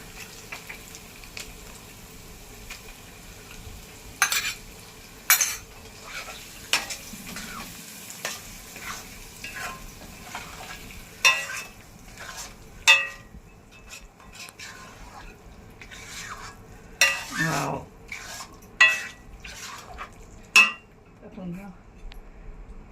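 Roasted dry fruits sautéed for carrot halwa, with sharp scraping stirs and clinks of a spatula against the pan over a low background sizzle, a steady series of close strokes with no talking.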